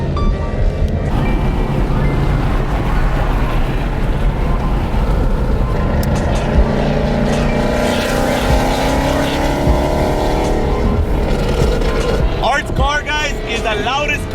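A very loud Ford Mustang engine roars continuously at a car meet, a deep sustained rumble with revving swells, while people talk nearby under the noise.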